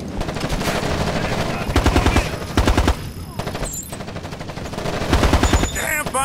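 Squad gunfire in Ghost Recon Advanced Warfighter 2: loud rapid automatic bursts crackle in several volleys, near and harsh, with battle noise and brief radio-style voices between them.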